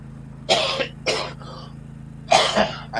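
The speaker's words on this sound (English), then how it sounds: "I apologize for the coughing." Several harsh coughs and throat clears come close to the mic in separate bursts, with a faint steady hum underneath.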